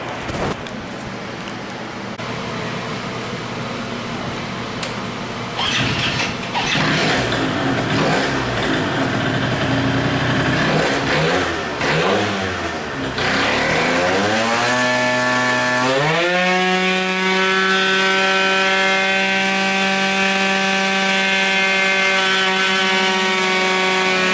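A Yamaha Aerox scooter engine on a test run revs up, buzzing through rising pitch sweeps, then holds a loud, steady high-RPM whine for the remaining seconds, close and unaccompanied by talk.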